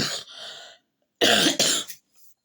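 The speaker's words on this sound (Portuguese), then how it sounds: "estou com tosse" Several harsh coughs from a woman during a Portuguese-language prayer session: a short burst, a pause, then two loud close coughs in quick succession and a faint trailing one.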